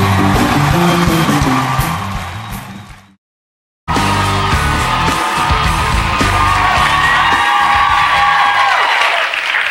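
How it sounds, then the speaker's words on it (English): Studio audience at a late-night talk show clapping and cheering loudly with yells and whoops, a dense roar that cuts out briefly to silence before resuming just as strong. "It's amazing how loud people clap when they do this."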